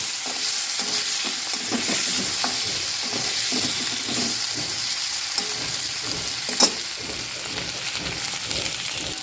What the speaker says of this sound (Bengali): এখন শুধু হলুদ দেব, দিয়ে আলুগুলি ভেজে